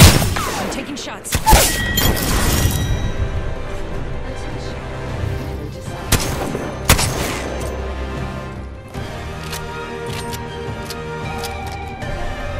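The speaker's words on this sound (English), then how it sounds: "I'm taking shots." Gunfire in the battle royale video game Apex Legends: a dense burst of rapid shots early on, then scattered single cracks and thumps over a steady game soundscape with music-like tones.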